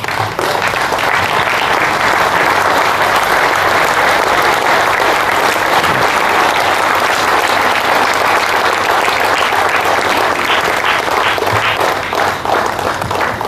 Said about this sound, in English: we have to stand up and give this great master a standing ovation